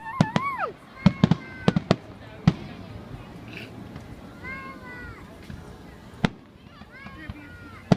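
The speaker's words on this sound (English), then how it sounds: "the fireworks are about to start. So, oh, there they are!" Fourth of July fireworks go off in irregular sharp bangs, some whistling as they rise, spread over a steady crowd murmur with people talking nearby.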